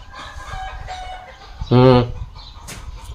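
A chicken gives a short, loud squawking cluck in the middle, standing out over faint background murmur and ambient noise.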